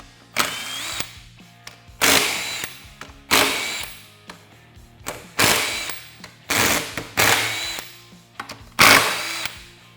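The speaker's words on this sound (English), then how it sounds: "we're going to remove the 6 bolts securing the lid to the housing" An impact power tool loosening the six bolts on the lid of a SuperATV 8-inch GDP portal gear box, loud close whirring bursts of about a second each, repeated six times with short gaps.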